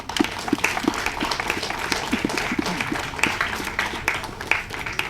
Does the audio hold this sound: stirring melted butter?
no